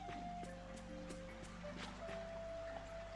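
A waterfall in the video game Disney Dreamlight Valley gives a soft, continuous rush of water under sustained melodic game music.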